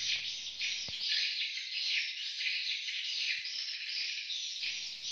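Dense high chirping of swiftlets inside a swiftlet house, a continuous shrill twittering chorus that fills the space evenly at moderate level, with a few faint low knocks, no talking.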